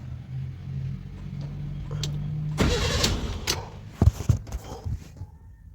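Engine of an abandoned Toyota with a repaired ignition cranking and catching, a burst of starter whir that turns into a rough running roar, then a few sharp clunks and a fading rumble, with no voices.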